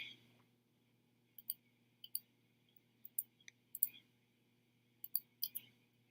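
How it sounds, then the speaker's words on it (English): Sparse computer keyboard clicks, quiet and close, come in small irregular clusters of two or three taps with short pauses between them. "clicking the keyboard"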